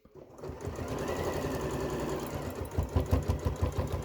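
Sewing machine stitching a reversible fabric tote bag, starting up and running in a steady fast mechanical whir with a rhythmic needle clatter that quickens toward the end, close, no talking.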